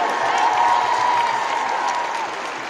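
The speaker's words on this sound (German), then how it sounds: "werft den Applaus an die Technik" A large crowd applauds and cheers for the technical crew at a carnival flashmob event, a dense continuous wash of clapping with a held tone over it, loud and fairly near.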